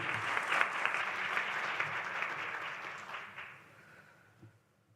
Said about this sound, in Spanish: Un fuerte aplauso, claro que sí.